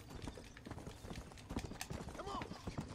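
Horse hooves clip-clop in the video game Red Dead Redemption, a busy run of quick knocking beats mixed with game noise and faint clatter, fairly quiet and close.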